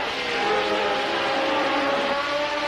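Formula One race cars at Brands Hatch roar past in a steady, loud engine drone with a high whining tone, the sound staying dense and sustained.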